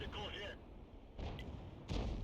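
A leFH18B2 artillery piece fires in a tank video game: two heavy booming blasts about a second apart, with a voice talking over the battle noise.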